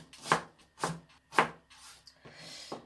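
Onion being chopped on a board for mapo tofu, a few distinct knife strikes in a loose rhythm followed by softer scraping, close and moderately loud with no talking.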